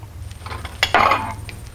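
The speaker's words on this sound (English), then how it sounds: "I'm gonna get my little bowl out" A small bowl is taken out among dishes in a home kitchen, giving a brief clatter and clink of dishware over a low background hum.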